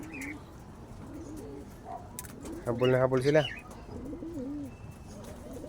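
A pigeon coos in a soft rhythmic burst at close range, with other faint cooing and bird sounds around it and a person speaking quietly.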